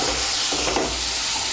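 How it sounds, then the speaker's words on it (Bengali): Spiced masala with chopped medium tomato frying and being stirred in a pan for a Bengali kakrol curry, a steady close sizzle with soft scraping stirs throughout. "এখন আমি মশলাটাকে ভালো করে কষিয়ে নেব।"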